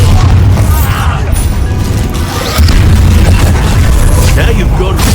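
A Bombarda spell detonates in Hogwarts Legacy combat, a loud, heavy boom with crashing debris and rumbling that sustains throughout, dense and close, with voices heard amid the blast.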